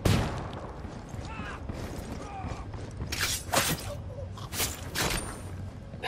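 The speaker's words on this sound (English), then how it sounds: "Hey, throwing a flashbang." A flashbang grenade thrown in Ghost Recon Wildlands goes off among several sharp, bright bursts over steady combat background noise, with voices speaking faintly in the mix.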